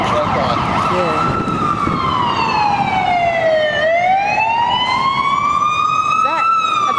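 A loud fire engine siren on a London street wails in a slow rise and fall close by, with steady traffic rumble underneath.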